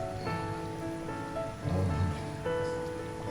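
Turmeric leaves stirred into chicken rendang simmering in a pan, a dense, steady bubbling sizzle that swells briefly as the leaves go in, with no one talking.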